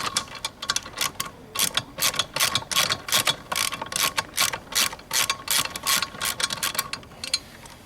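Ratchet wrench loosening a seat bolt in a GM/Chevy vehicle, rapid clicking pawl bursts repeating in quick, uneven runs, close and crisp with no talking.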